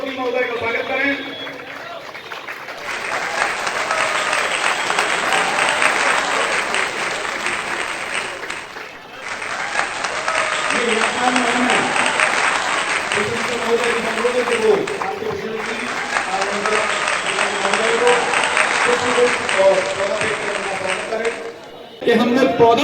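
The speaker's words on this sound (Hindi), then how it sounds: "हमारे बहुत सी टीम जोरदार तालियों से हमारे राष्ट्रपति महोदय का स्वागत करें।" Loud, sustained applause from a crowd welcoming the President at an outdoor traffic-month flag-off event, rolling on for most of the stretch with a short dip midway and a stronger second wave.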